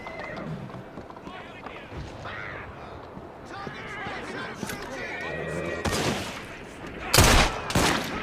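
Pistol gunfire in the video game Assassin's Creed Syndicate comes as a sharp burst of loud shots near the end, after horses clop and whinny and voices talk over the scene.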